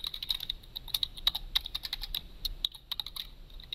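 Steady run of computer keyboard typing while entering Python code, quick irregular key clicks close by with no talking.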